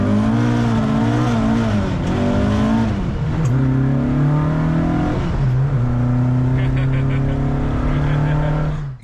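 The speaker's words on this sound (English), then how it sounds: "he's got me straight in his Mk2 Escort rally car and we're going to take it down the road" A Mk2 Escort rally car drives down a road, its engine droning loudly up close with several gear changes and revs rising and settling, continuous throughout and ending abruptly.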